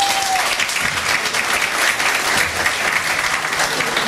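A standing crowd at a cabaret show applauds steadily and loudly, a dense wash of clapping that holds at an even level throughout.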